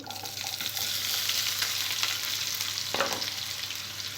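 Chopped onion with seasoning seeds, green chillies and curry leaves fries in hot oil in a pan for mushroom masala curry, a continuous close sizzle with a few stirring knocks.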